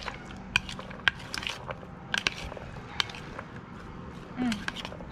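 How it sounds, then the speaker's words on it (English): Ceviche with pineapple chunks is stirred in a bowl, producing scattered wet clicks and light utensil taps against the dish, close and fairly quiet. "Stir it all up."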